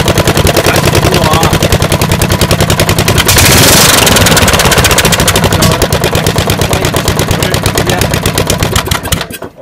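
A mud mower engine missing its exhaust runs loud and close with rapid, harsh popping pulses, surging briefly with a burst of backfire before chugging on and sputtering to a stop at the end.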